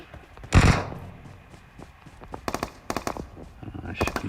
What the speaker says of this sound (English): they're shooting at each other, not shooting at me